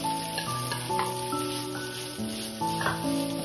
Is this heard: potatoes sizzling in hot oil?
yes